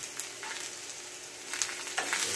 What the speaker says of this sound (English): So we're doing our stir fry.